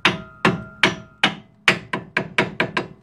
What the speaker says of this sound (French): un petit coup de marteau histoire de le caler